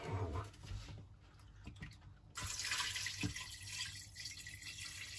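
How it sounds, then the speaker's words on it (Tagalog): Water gushes steadily into a pot, a rushing splash that starts partway through and keeps going after a few quiet knocks. "Okay, lagyan natin ng tubig na."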